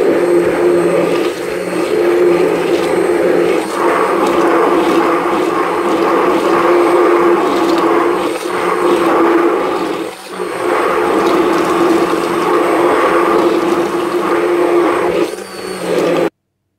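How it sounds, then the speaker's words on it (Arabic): An electric mixer beats apple cake ingredients together in a bowl, a steady loud whirring drone with slight pitch wavering that runs nearly unbroken for about sixteen seconds, dipping briefly near the middle before cutting off at the end. "وغادي نبدا نضرب المكونات كامله مع بعضها."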